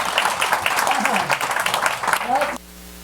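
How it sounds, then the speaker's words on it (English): Applause from a conference audience in a Beverly Hills summit hall, a dense sustained patter of clapping that ends abruptly, with voices mixed in. "please give a big round of applause for Jim"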